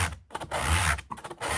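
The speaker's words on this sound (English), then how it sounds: "This is a set of curved and angled sanding blocks." A curved and angled sanding block is worked by hand over thrifted wooden furniture to strip off flaking finish. Close, scratchy rubbing strokes come in short bursts with brief pauses between them.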